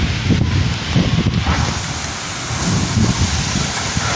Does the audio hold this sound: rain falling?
yes